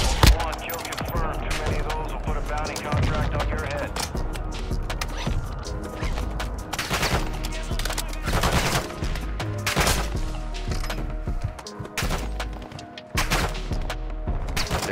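Sustained automatic gunfire from computer-controlled bots in a video game, dense rapid bursts running continuously and loud throughout, with players talking over it.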